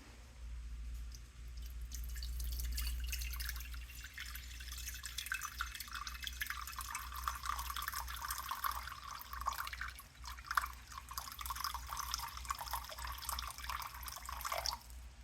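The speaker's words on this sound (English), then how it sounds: "So I'm gonna go ahead and put my water in first." Water is poured into a bowl for focaccia dough, giving a faint trickling and dripping stream over a low hum, followed by scattered small splashes and clinks, quiet and close with no voices.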